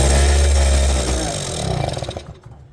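A 1980 Suzuki FS50 moped engine is kick-started with no choke, giving a loud, buzzy two-stroke roar that fades into a sputtering, uneven putter before cutting out.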